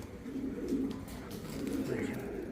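Racing pigeons coo in a low, continuous murmur close by, offered for sale among foreign racer, military, Bombay and Shekhar breeds; the soft burbling runs steadily through the whole stretch with a faint higher call near the end.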